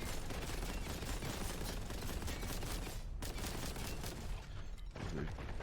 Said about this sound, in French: le minigun du Terminator